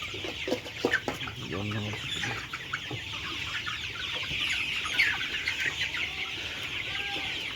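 A flock of colour-bred chickens on a poultry farm clucks and chatters continuously at close range, with some sharper calls rising above the steady clucking.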